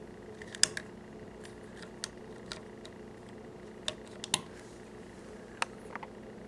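A 1943 Mauser Karabiner 98 rifle in near-new condition gives off sharp, close mechanical clicks, scattered irregularly over a quiet background.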